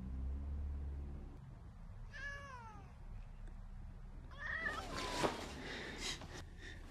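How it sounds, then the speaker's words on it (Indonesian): A cat meows twice, drawn-out and wavering, fairly close against a quiet room background with a soft bump in between. "dia terbangun oleh suara kucing"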